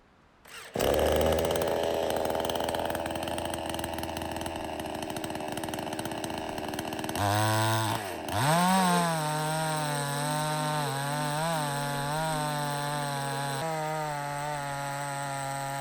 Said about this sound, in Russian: Начал пилить второй брус, и у меня закончился бензин.